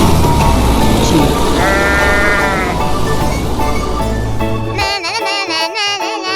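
Sheep bleating in a 3D animal slide video game, a loud wavering cry over busy game noise that gives way to brighter electronic game sounds.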